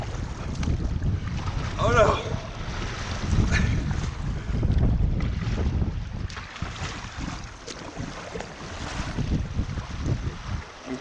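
Strong wind buffets the microphone while a canoe is paddled across open water, a loud steady rushing roar with brief voices over it.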